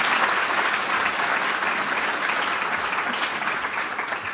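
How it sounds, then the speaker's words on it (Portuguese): Audience applause at the opening session of a healthcare conference, a dense, sustained round of clapping from a crowd, loud and even throughout. "Uma salva de palmas para quebrarmos aqui um pouco de gelo."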